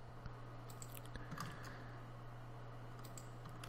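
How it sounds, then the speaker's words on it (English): Computer keyboard typing for an email, soft scattered key clicks at a low level over a steady background hum, no voices. "let me type an email and send it to this address"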